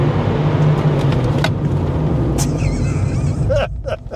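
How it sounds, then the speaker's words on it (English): A 2002 Mazda Miata SE braking hard from 60 mph, heard from inside as a steady loud road and tire rumble that fades near the end as the car slows. "Get up to 60 and then brake as hard as you can."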